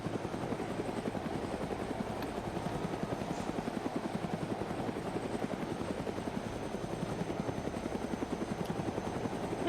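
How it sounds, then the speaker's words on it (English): In the video game ArmA 3, a Chinook and a Huey military helicopter sit with rotors turning, producing a fast, even blade thump over a low engine drone that holds steady and swells slightly at the very end. "So, we'll watch them fill up this Chinook, and the rest will get in that Huey."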